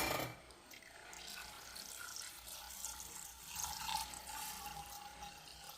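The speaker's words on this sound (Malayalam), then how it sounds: "അതിനുശേഷം ഇത് വേവാൻ ആവശ്യത്തിനുള്ള വെള്ളം ഒഴിച്ചു കൊടുക്കാം" Water poured into a pressure cooker holding washed, soaked chickpeas, a soft, continuous trickling pour heard fairly close, with light splashing and a faint ringing tone from the metal pot.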